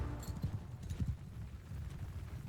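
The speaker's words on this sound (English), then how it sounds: "So horses move up." Horses in the video game Mount and Blade II Bannerlord move forward with a rhythmic, muffled clip-clop of hooves, several quick beats heard close and fairly loud with no voices.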